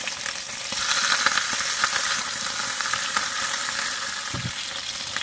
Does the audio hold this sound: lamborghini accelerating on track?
no